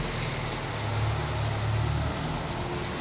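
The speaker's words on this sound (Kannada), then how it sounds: "ಇಲ್ಲಿ ಮಳೆ ನಿಂತೇ ಇಲ್ಲ, ಸಿಕ್ಕಾಪಟ್ಟೆ ಮಳೆ ಹಂಗೆ ಇದೆ." Heavy rain pours down steadily as a dense, continuous hiss with a low rumble underneath, holding at an even loudness for the whole stretch with no voices.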